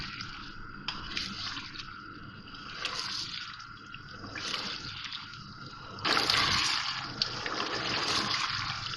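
Tomato chicken stew sizzling and bubbling in a pan as it is sautéed, a steady close hiss of frying with wet spattering that swells louder toward the end.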